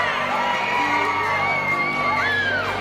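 Wrestling crowd at a Capital City Wrestling match roaring and whooping for Fantana, a dense, steady wall of cheers and shouts with rising yells throughout.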